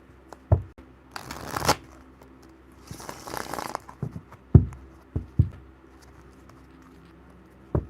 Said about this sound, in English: Let me clear out the energy and shuffle up my cards.